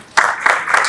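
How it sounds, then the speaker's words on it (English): Applause from an audience at an IEEE event, a short burst of clapping that starts abruptly and swells in waves, fairly loud and close, with no talk over it. "So a round of applause for him."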